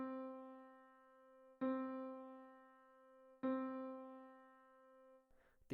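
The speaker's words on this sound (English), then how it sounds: "4 measures using only whole notes would look and sound like this." A single sustained pitched tone is struck at the start of each bar and held as a whole note. Four evenly spaced attacks each ring and slowly decay, quiet and clean, with no voices.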